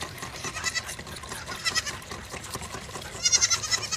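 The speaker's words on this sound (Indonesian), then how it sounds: "Wow, kambing." Goats bleat in short wavering cries, a few calls close by, with some rustling and watery background noise.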